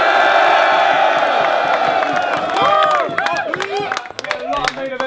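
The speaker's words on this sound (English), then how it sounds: "please make some noise" A rap battle audience in Birmingham roars, whoops and claps for the main event, loud and dense at first, then thinning into scattered individual shouts and bellows.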